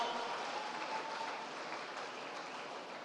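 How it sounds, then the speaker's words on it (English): Audience applause at a launch event in Abuja, heard as a steady, faint wash of distant clapping that holds evenly throughout without voices standing out. "Let's give a round of applause to Awelewa Eniola,"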